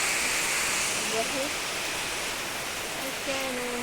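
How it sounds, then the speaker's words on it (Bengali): Steady rain falls, a dense, even hiss that stays close and continuous throughout, with faint tonal sounds briefly rising underneath. "আমাদের এখানে বৃষ্টি হচ্ছে"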